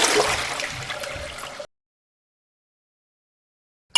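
A toilet flush rushes loudly and steadily with gurgling water for under two seconds, then cuts off abruptly into silence.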